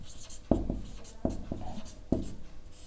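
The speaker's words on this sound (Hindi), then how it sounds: "हम लोग लिखेंगे" A pen writes by hand on paper while working a class 9 maths exercise: close, scratchy strokes with a few sharper taps, and no talking.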